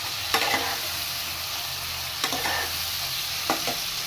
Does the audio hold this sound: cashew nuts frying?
yes